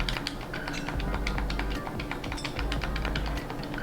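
Rapid clicky presses on the face buttons of a Stadia controller, a dense run of sharp plastic taps close to the mic, steady and fairly loud, no talking.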